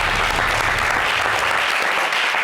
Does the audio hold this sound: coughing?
no